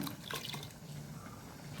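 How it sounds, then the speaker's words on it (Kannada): Water poured into a pot of South Indian sambar while cooking, a quiet trickling and splashing stream up close, brief and soft. "ಇದಕ್ಕೆ ಸ್ವಲ್ಪ ನೀರನ್ನು ಹಾಕೊಳ್ಳೋಣ"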